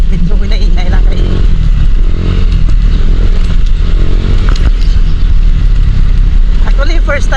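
A motorcycle rides along a rough dirt road toward Obong Cave in Hinoba-an, its engine a loud, constant low drone with rattling clatter over the bumps, while someone talks over it throughout.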